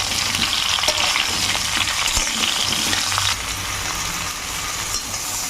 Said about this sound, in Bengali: আম তো আস্তে আস্তে করে নাড়ছি, আস্তে আস্তে নাড়তে হবে।